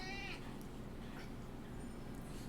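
A cat lets out a short, sharp meow right at the start, then low steady background noise continues with no further clear calls.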